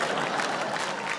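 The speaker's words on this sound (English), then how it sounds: "You're clapping that." A stand-up comedy audience gives a short, steady round of clapping, a soft, fairly distant wash of many hands with no speech.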